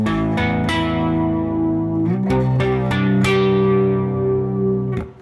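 Electric guitar plays the pre-chorus of a song on a clean tone, with sustained ringing chords and several sharp strums or note changes, loud and close, fading out at the end.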